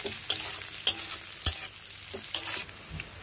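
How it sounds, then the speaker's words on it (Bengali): Cumin and bay leaves fry in ghee with a quiet, steady sizzle, punctuated by several sharp scraping stirs and knocks of a spoon against the pan. "একটু জিরা আর তেজপাতা আমি এর মধ্যে ফোড়ন দিয়ে দিলাম।"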